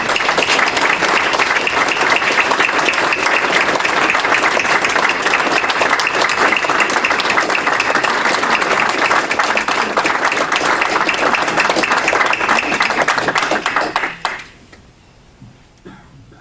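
Audience applause at a dedication ceremony in Frankfort, loud sustained clapping from a large crowd that holds steady for about fourteen seconds, then fades quickly to quiet.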